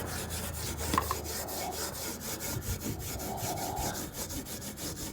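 Steel wool scrubbing the rusty bumper of a 1955 Chevy, a steady rasping scrub that runs without a break at close range, with strokes that rise and fall in quick succession.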